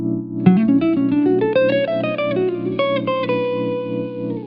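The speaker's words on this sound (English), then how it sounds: "The lick works over a minor 7th chord and it sounds like this." A jazz guitar plays a smooth-jazz lick over a sustained minor 7th chord, a quick run of clear single notes rising and falling, then settling on a held tone, loud and close with no voices.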